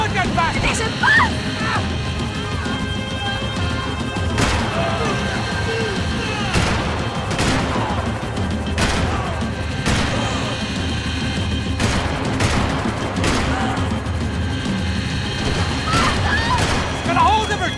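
Gunfire in the third-person shooter Max Payne 3 during an escort chase, sharp repeated shots cracking at irregular intervals amid a constant loud roar of action, with characters shouting in English and Spanish over it.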